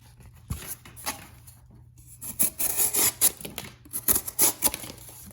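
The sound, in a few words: Mora Classic No. 2 knife cutting through cardboard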